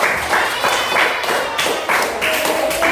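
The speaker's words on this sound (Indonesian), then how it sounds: "Tepuk tangan." A classroom of children clapping together in a regular, rhythmic pattern, loud and close, with a few voices faintly underneath.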